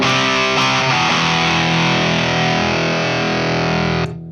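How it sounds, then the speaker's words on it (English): An electric guitar plays through a Jackson Audio overdrive pedal: a loud, gritty chord rings out and sustains before being cut off near the end. "That's just the first overdrive."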